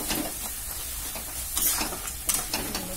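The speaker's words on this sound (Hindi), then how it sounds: "मिला के मिक्स कर देती" Chicken curry with garam masala is stirred in a pan over a continuous close sizzle, broken by a few sharper scrapes of the spoon against the metal.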